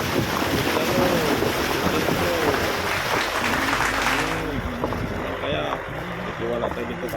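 A 4WD Nissan fords a river, its engine and rushing, splashing water mixed with wind buffeting the microphone, loud and continuous, while people talk over the noise.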